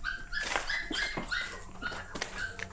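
In a cemetery, a dog whimpers in a series of high, repeated whines, with a few short barks mixed in, fairly close and moderately loud.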